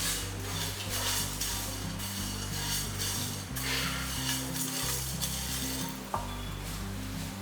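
Spices and curry leaves fry in a pan for country chicken chops, a steady loud sizzle with scraping and stirring clatter throughout and a sharp knock near the end.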